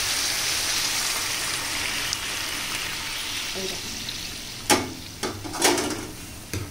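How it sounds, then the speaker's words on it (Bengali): Hot water is poured into a pan of chicken curry cooking with jackfruit seeds and pointed gourd. It gives a steady, close hissing bubble, followed by a few sharp splashy sizzles near the end. "গরম জলটা দিলে কি হয় দেখো, সাথে সাথেই ফোটে, মানে একটুও টাইম নেয় না"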